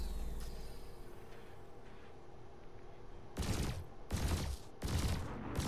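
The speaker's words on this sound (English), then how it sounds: "Yeah, you're shooting me." Gunfire in the space combat game Elite Dangerous, three loud bursts of rapid shots arriving late after a quiet, humming stretch.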